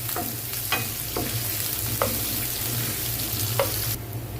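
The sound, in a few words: onions frying in cooking oil until light brown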